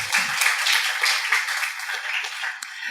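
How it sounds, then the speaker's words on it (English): Audience applause for an evening panel session, continuous close clapping filling the room, with a voice briefly heard at the start. "Can we get a round of applause for them"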